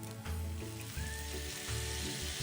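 Bamboo shoots are stir-fried with sweet soy sauce in a pan, giving steady sizzling and frying with a few low scraping stirs, close and moderately loud, with no talking.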